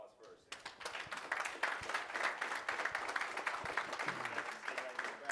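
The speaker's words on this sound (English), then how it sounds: "Give them a round of applause first." Audience applause at an insurance and annuities talk ahead of a Q&A session, moderate clapping from a modest crowd sustained for several seconds at a fairly quiet level.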